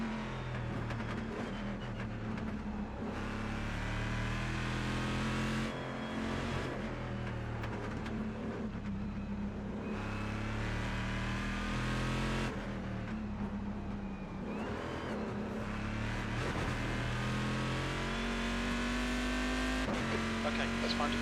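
A Corvette GT1 race car engine in the iRacing sim drones loudly and continuously, revving up through gears and dropping on lifts and downshifts, with a tire squeal along the way.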